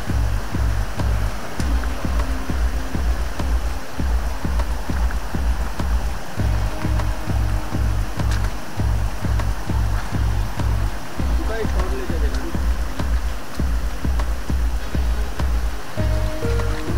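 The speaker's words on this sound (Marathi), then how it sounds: "इथे आता तुम्हाला पाटाचं पाणी दिसत आहे।" Rainwater rushes steadily down an irrigation channel in the Konkan countryside, a loud, continuous gushing that persists throughout, with a throbbing low rumble and faint background sounds.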